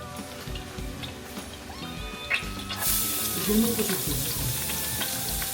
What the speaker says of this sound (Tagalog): Ayan, gigisa lang natin ang bawang at sibuyas.